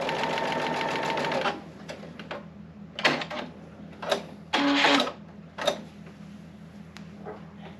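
Sewing machine stitching a quilt block, a fast, close run of rhythmic needle chatter for about a second and a half, then several short stop-start bursts of stitching with quiet pauses between.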